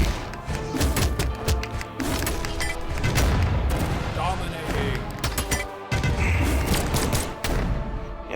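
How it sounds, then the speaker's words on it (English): Blunderbusses fire cannonballs in the game Brawlhalla, a chaotic run of booming shots and thuds amid game effects, with someone talking over much of it. "he's shooting apparently cannonballs from blunderbusses"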